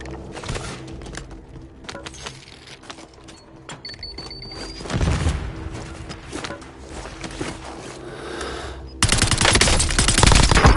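Bursts of automatic gunfire from Call of Duty: Warzone crackle at mid distance through the match, with a louder, denser volley near the end.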